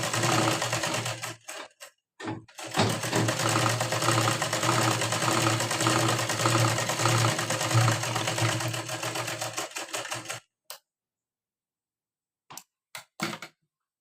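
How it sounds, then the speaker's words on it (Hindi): A sewing machine runs a long, steady stitch along a blouse seam, whirring loud and close for about eight seconds before stopping, followed by a few short bursts of stitching after a pause. "यहाँ से एक सिलाई करनी है इस तरह से सीधी"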